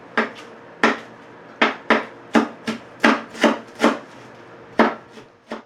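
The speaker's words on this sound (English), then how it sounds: "now I will very finely chop cilantro" A knife finely chops cilantro on a board with about a dozen sharp, close strokes in an uneven rhythm, each a crisp thud with a short tail, heard on its own.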